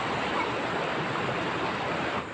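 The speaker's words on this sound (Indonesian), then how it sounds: "Ini di Sungai Kahuripan, perbatasan Desa Tunjung Muli dan Desa Panusupan" Kahuripan river flowing along a village border, a steady broadband rush of water that stays even and close throughout, with no voices over it and a slight drop at the very end.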